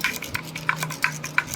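Fruit salad of apple, banana and grape pieces stirred to mix, giving four or five soft rhythmic scraping strokes against the bowl, close and quiet with nothing else over them.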